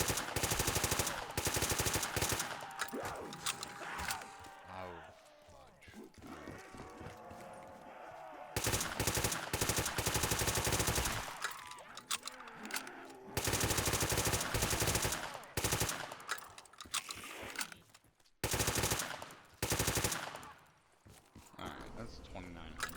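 Rapid automatic gunfire from a custom zombies map in a video game, loud, dense bursts that stop and restart over the clip, with a voice talking over it in places.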